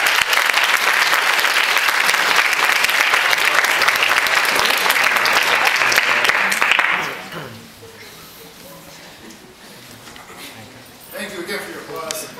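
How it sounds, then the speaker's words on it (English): Loud, dense audience applause at a university outreach program luncheon, sustained for about seven seconds before dropping sharply, followed by a quiet room and then a voice speaking. "Thank you again for your applause."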